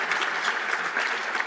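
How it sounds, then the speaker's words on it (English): Brief burst of audience applause at an awards event, thick steady clapping from a sizable crowd, loud and unbroken with no voices. "Let's give a round of applause to all of them."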